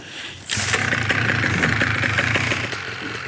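A small aircraft engine bursts into life after a quiet moment, then settles into a steady, loud running drone close by.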